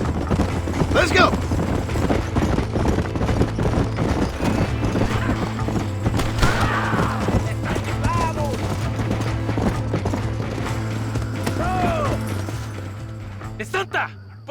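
A horse gallops with steady pounding hooves in Red Dead Redemption, neighing loudly now and then, with other riders and voices speaking over the ride throughout.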